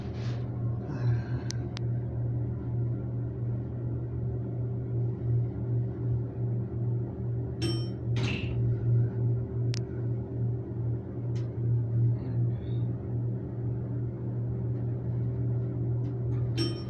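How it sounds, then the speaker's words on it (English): Lancaster hydraulic elevator motor at Shady Maple Smorgasbord in East Earl running with a steady low hum and drone throughout, with a few faint clicks and knocks over it. "Let's listen to the motor and watch the indicator."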